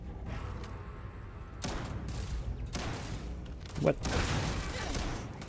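Automated turret gunfire in a Starfield space battle, bursts of rapid shots against robots, moderately loud and mixed with game noise, and someone speaks briefly over it.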